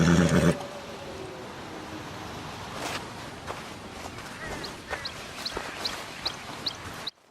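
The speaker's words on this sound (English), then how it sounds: "look at this gorgeous dapple dark gray Hungarian half-bred, just waiting for you" A dapple dark gray Hungarian half-bred horse in Red Dead Redemption gives a short loud snort or whinny, then stands with quiet hoof shuffles and a few faint bird chirps around it.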